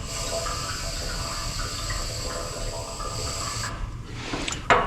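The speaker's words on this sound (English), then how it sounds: "Let's see if we hear bubbles coming from the tank now." Bubbling gurgle of fuel inside the tank of a Ford 300 wood chipper that has sat unused for over a year, a steady close hiss and burble that cuts off near the end with a few sharper knocks.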